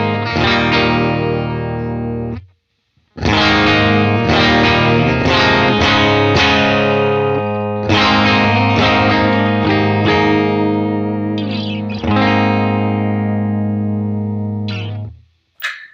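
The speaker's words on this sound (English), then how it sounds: "If I want something just straight up louder, I'm gonna be using this boost." Electric guitar through a boost pedal on a pedalboard rings out loud, bright chords and lines with mild grit, one clear pause early on, then sustained strumming and picked notes to the end.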